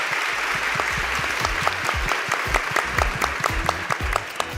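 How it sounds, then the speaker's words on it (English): An audience applauds panelists at an engineering conference session, with dense, close, steady clapping from many hands that runs throughout at a lively, even level. "let's give our panelists a round of applause before we get started"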